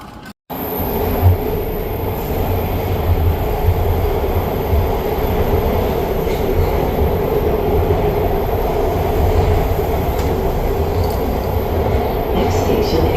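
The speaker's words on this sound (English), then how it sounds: "It is time for the MARTA train in Atlanta." A MARTA metro train in Atlanta runs at speed, heard from inside. A loud, steady rumble of wheels and car noise fills the whole stretch, with faint squeals and clanks now and then.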